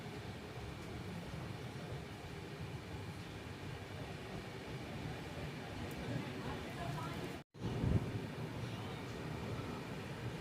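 Train pulling into platform 1 at Alnavar Junction: a steady rumbling roar of rolling coaches carries on throughout, broken by a brief sharp dropout midway, with some talk faintly underneath.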